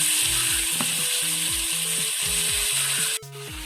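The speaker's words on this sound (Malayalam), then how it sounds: "നമ്മൾ തയ്യാറാക്കി വെച്ച ചേമ്പിന്റെ താളും സവോളയും കൂടി ചേർത്ത് അതിനകത്തേക്ക് ഇട്ട് കൊടുക്കാം." Chopped taro stems and onion hitting hot oil with mustard seeds and curry leaves, a loud, even hiss of frying under a looping melody of background music.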